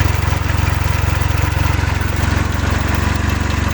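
A mini tractor's power take-off running at low revs: a steady, loud engine drone with a fast, even pulsing throb that holds unchanged from start to finish, close by, with no talking.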